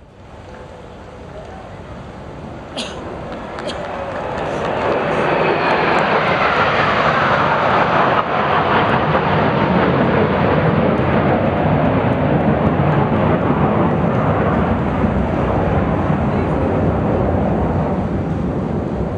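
Two airplanes make a flypast over a presidential handover ceremony at Istana Merdeka in Indonesia. The engine roar swells over several seconds into a loud, sustained, close rumble that fills the rest of the clip.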